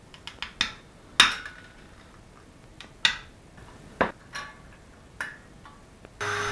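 An old PCB is cut into a hinge shape, giving irregular sharp snips and clicks spaced a second or so apart, close and fairly quiet, with a brief burst of noise at the end.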